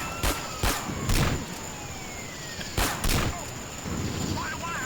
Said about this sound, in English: And I love how weak this country rifle is. It takes 2 shots to the head to actually stop somebody.